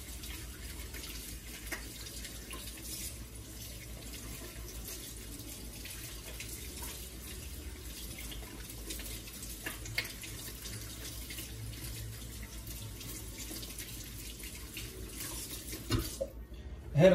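Tap water runs steadily into a sink while a gelled boar-bristle shaving brush knot is rinsed, a continuous close splashing wash with no talk.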